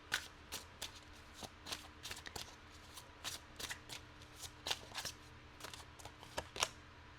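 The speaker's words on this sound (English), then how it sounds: "Had a few cards flip over, but too many to take." Tarot cards shuffled by hand in a quiet room, a rapid series of crisp riffling bursts at a steady rhythm, close and soft, with no talk.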